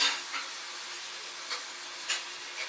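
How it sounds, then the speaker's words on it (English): Vegetables and mushrooms cook in butter in a pan, giving a soft, even sizzle with a few brief louder crackles or stirring touches scattered through. "Now the vegetables will cook about 5 to 10 minutes in the butter here."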